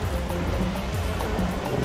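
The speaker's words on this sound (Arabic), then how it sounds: "بحر فسيح، محيط الأطلسي." Atlantic Ocean surf rolling onto the shore at night in a coastal town, a steady low roar of breaking waves with wind noise, continuous and fairly close.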